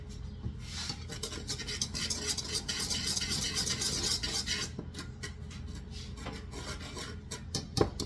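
Whisk scraping and stirring butter into a crumb topping for blueberry kuchen in a bowl, a steady close gritty rasping that runs for several seconds then breaks into scattered taps and scrapes.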